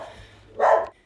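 A pet dog that guards its yard against cats lets out one short, loud bark after a quiet stretch, then falls silent.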